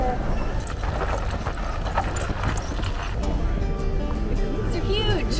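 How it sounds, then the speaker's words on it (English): Horse hooves clip-clopping on a snowy street at an Alaskan winter festival, faint and distant beneath constant crowd chatter and nearby voices. "I just hear a horse."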